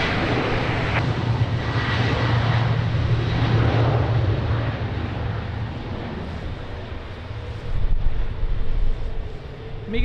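An airliner on approach to Lisbon Airport's runway 20 in rain and gusty wind roars in a broad, steady engine drone, fairly loud and sustained, with a brief rise in rumble near the end.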